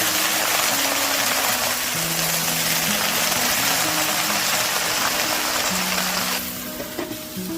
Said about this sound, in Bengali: তারপর দিয়ে দিতে হবে কেটে রাখা পাতা আর ডাঁটাগুলো। তারপর ভালো করে নাড়াচাড়া করতে হবে।